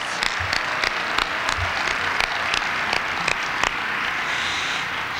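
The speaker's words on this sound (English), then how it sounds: "give yourselves a round of applause" Applause from an audience at a ban-fracking rally in a church hall, dense and loud sustained clapping with a few sharp individual claps standing out, fading slightly toward the end.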